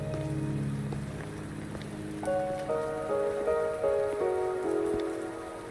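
Steady rain falling in the video game Wuthering Waves, a continuous hiss of drops on surfaces with soft game music tones layered over it, no voices.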